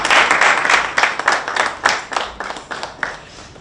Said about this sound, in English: Another round of applause to the moderator, the speakers, and all of you who have interacted